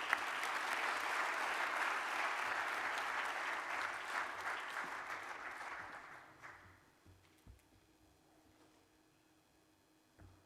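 A conference audience at an international arbitration event breaks into sustained, dense applause that holds steady for several seconds, then tapers off into scattered last claps.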